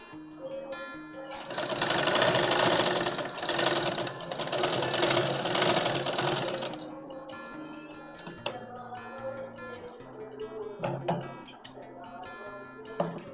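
A sewing machine stitches straight trousers in a fast, even whirring run of about five seconds, then stops; a few soft clicks and handling sounds follow in a quiet room.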